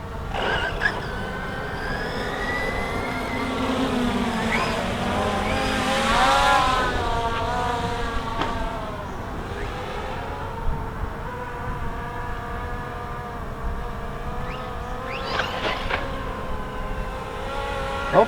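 A JLBRC JLB21101 extreme RC car runs outdoors with a steady electric motor whine that swells and fades as it speeds past, with bumps and rattles from rough ground and no one talking.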